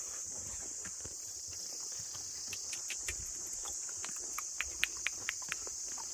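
Horse hooves clip-clop in a short run of crisp, evenly spaced steps on a mountain trail, set against a constant high chirping of crickets.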